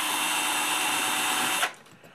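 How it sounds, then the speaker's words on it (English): A power drill whines steadily and loudly while marking a hole in a metal bar for a homemade Morse key, then cuts off abruptly near the end, leaving quiet handling sounds. "I'm going to hold this bar down and just mark it with a drill"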